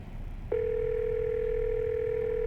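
A phone dial tone from the game Scarlet Hollow: one steady, loud electronic hum that starts abruptly after a faint background murmur and holds unbroken to the end.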